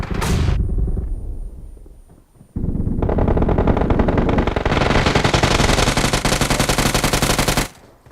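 Gunfire in the video game PUBG: loud, sustained bursts of rapid automatic shots roll on for several seconds, broken by a brief pause, then a dense continuous volley that stops abruptly.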